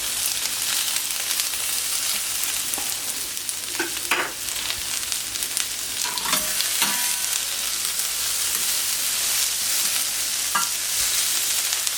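Catalan-style vegetables grill on a plancha heated to 200 degrees, giving a steady, close sizzle with occasional crackles and light scraping, no voices.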